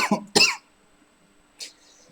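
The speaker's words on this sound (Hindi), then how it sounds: "हमें खांसी आ गई यार" A few sharp coughs burst out close together in a classroom, followed after a short pause by a single fainter cough.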